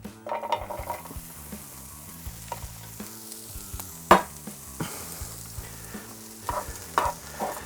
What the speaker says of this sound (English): put a bit of oil in, put your onions in